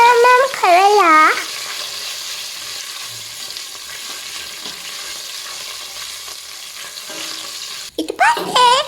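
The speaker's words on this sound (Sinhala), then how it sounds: "රන් පාට වෙනකම් මේ ටික තෙල් එකේ බෙද ගන්න ඕනේ." Mustard seeds and curry leaves fry in hot oil with a steady, close crackling sizzle that runs the whole time; a voice speaks at the start and again near the end.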